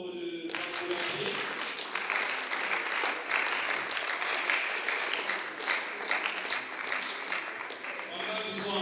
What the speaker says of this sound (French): Nous acclamons pour le encourager.